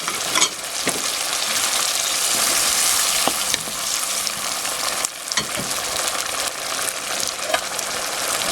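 Ground pork and cabbage sizzle loudly in a hot pan as water is poured in, a dense steady frying hiss running throughout with occasional stirring clinks and scrapes.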